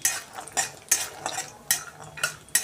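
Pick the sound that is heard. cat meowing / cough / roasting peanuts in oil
roasting peanuts in oil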